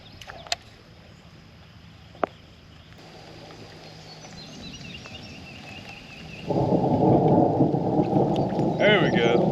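Thunderstorm with heavy rain out on the water during a bass fishing trip from a boat, a sharp crack or two early, then a steady downpour building to a loud, dense roar in the final seconds.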